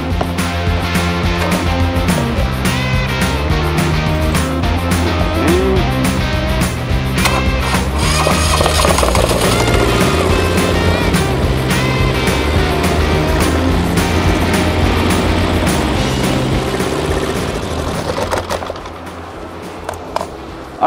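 A Caterpillar diesel engine running on transmission oil, loud and steady mechanical drone that holds for nearly the whole stretch before easing off near the end.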